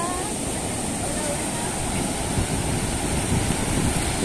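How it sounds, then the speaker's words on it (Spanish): Ocean waves wash onto a beach, a continuous broadband surf rush with some wind noise, steady and fairly loud without distinct breaks. "aquí pueden ver ustedes que está hermosa la playa"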